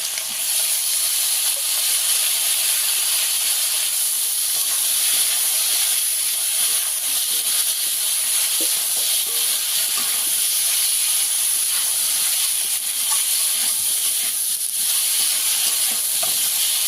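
Okra and prawns frying together in a pan while being stirred, a loud continuous hissing sizzle that holds steady throughout with faint scraping of the stirring underneath, close up and without talk.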